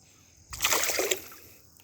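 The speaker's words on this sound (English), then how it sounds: "Let me put him right back into the water and release him." A single sudden splash as a released fish drops into water nearby, a burst of spray and slosh lasting about half a second before fading out.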